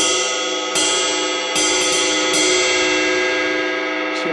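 A cymbal is struck several times at uneven intervals, each hit ringing brightly with a long metallic sustain, close and alone.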